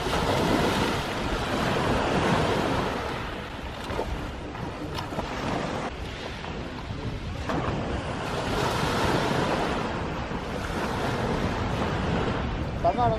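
Waves wash steadily onto a beach at Antalya, Turkey, a broad continuous roar of surf with gusty wind rumble on the microphone, swelling and easing without pause.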